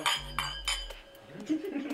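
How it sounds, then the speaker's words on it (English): Glasses of bubbly clink together in a cheers toast during a casual interview, several bright chimes in quick succession up close, followed by muffled movement. "I think we need to have a cheers, guys."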